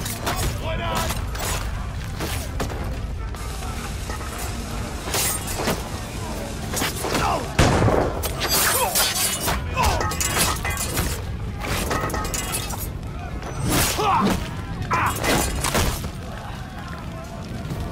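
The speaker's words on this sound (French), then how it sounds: "Grenade!" Grenade blast in Assassin's Creed Rogue amid a chaotic battle, with several heavy booms, crashes and gunfire-like bursts over a constant rumbling bed, and voices shouting at points.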